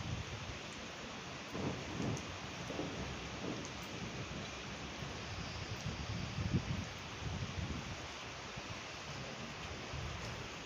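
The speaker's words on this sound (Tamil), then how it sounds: "குளிருதுப்பா, மழை பிடிச்சிருச்சுப்பா, நல்லா மழை பிடிச்சிருச்சப்பா." Steady heavy rain pours through a night storm in Chennai, with low thunder rumbling beneath the constant hiss and no voices.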